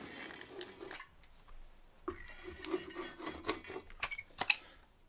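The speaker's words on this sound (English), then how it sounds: "So this time I'm going to try putting the glue onto the backer board." Glue being spread onto a wooden backer board for a pallet-wood herringbone table: a soft scraping rub with a quiet pause in the middle, followed by repeated brushing strokes and a few sharper taps near the end.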